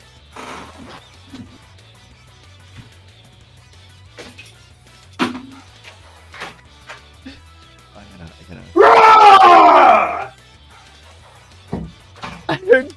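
A person screams loudly for about two seconds in another room, a sustained raw yell standing out between sparse quiet knocks and a few distant dog barks.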